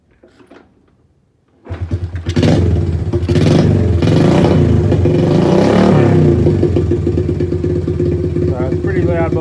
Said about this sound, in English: So it's a pretty loud bike, because there's no baffles.